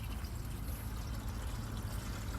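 Windshield washer fluid poured into a car's reservoir, a faint, steady trickling pour with no break.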